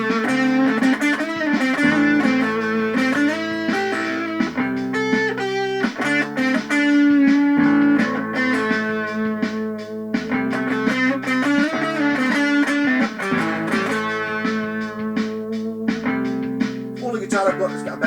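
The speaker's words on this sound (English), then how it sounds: "I'm going to put on the Washburn Stack in a Box pedal for a little bit of distortion" An electric guitar plays through a Washburn Stack in a Box pedal set for mild distortion, with strummed chords and melodic runs, loud and continuous throughout.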